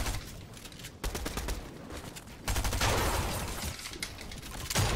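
Near-constant gunfire in an Arena match of a video game: dense rapid shots and bursts overlapping one another, loud and close, with some louder volleys mid-clip and no talking.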